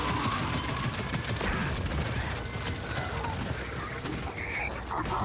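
Sustained enemy gunfire in Gears 5 Hivebusters co-op, a dense, continuous rattle of shots mixed with mechanical clatter, steady and moderately loud throughout.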